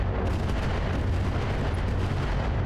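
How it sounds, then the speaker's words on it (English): Friendly turrets in the video game BattleTech fire in a continuous dense barrage of rumbling booms and blasts, loud and sustained with no pauses. "Friendly turrets opening up."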